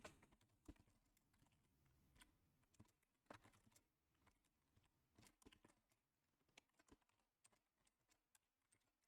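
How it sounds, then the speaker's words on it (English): Sparse, quiet keystrokes on a computer keyboard, irregular taps and short clusters spread out over several seconds with near silence in between. "still getting used to this new keyboard."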